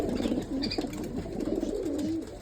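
Pigeons of fancy Turkish breeds coo in a loft, soft rolling calls repeating close by over a low background hum.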